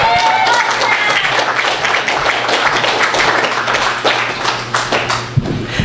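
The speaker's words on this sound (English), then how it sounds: "Give it up for Isaac, you guys." A crowd at a vaudeville-style comedy show applauds comedian Isaac Paris with loud, dense clapping that holds steady before thinning out near the end, with a low hum underneath.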